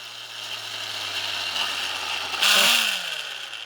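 A Beyblade Dranzer Shooter DX electronic launcher gives off a steady buzzing rumble, then a louder, brighter burst of whirring with a short falling tone, heard close and alone without talk.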